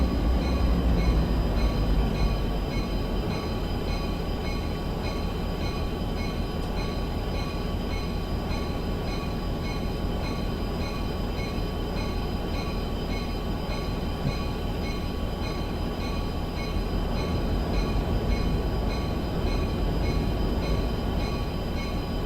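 A video game train rumbles steadily with a continuous low roar and faint mechanical whine, gradually easing without pause as it slows on approach to a station.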